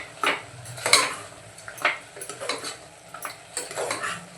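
Malvani masala and garam masala being stirred into chicken in a pot, with repeated scraping and clinking of a spoon against the metal at an uneven rhythm, close and fairly soft, with no talk.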